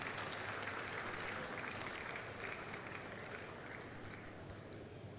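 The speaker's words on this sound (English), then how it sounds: "can you give him a round of applause, please?" Sustained applause fills a conference hall at a digital payments expo, a dense, steady patter of clapping from the audience that continues evenly throughout, somewhat distant and without talk.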